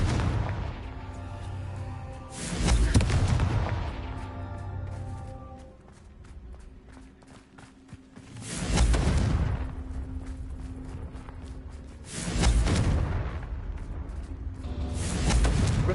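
Blasts from the Confringo fire spell in Hogwarts Legacy hit during a Merlin trial. Three loud, booming bursts strike at about 2.5, 8.5 and 12 seconds, each leaving a ringing tail, with footsteps and ambient noise between them.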